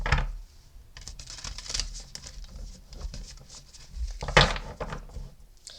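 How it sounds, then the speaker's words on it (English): A deck of oracle cards being shuffled by hand, quick papery riffles and taps in irregular bursts, close and fairly soft. "let me give it another shuffle"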